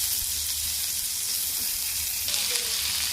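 Onion, dried red chilies and urad dal frying in a pan make a steady, close hiss of sizzling oil, with a faint stir or shift of the ingredients toward the end.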